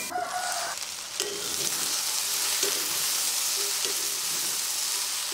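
Potatoes cook in a covered pan on the stove, giving off a steady soft sizzle and frying hiss with a few faint clinks, with no talking.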